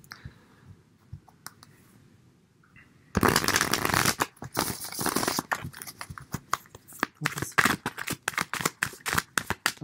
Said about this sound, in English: shuffling a little bit for a while